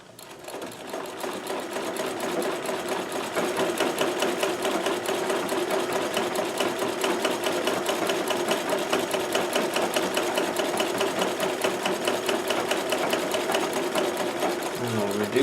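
Singer 237 sewing machine running steadily on a full-width zigzag stitch, a fast even mechanical clatter held for the whole stretch, close and loud, slowing near the end.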